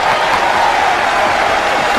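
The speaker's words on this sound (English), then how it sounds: "and the crowd cheers" A basketball crowd heard over a broadcast cheers and applauds in a dense, steady wash of noise that stays loud and unbroken for a couple of seconds.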